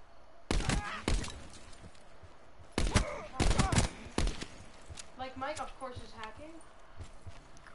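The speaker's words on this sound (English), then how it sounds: "Look at the pistol, y'all! Did you shoot it, Beckham?" Pistol gunshots in a video game, a few sharp cracks in two short groups, with people talking in between.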